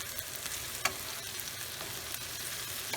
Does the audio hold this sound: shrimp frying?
yes